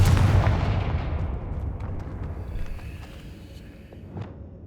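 A fiery Confringo blast spell bursting in Hogwarts Legacy: one heavy booming explosion up front that rumbles and slowly fades over several seconds, with faint scattered crackles afterward and no speech.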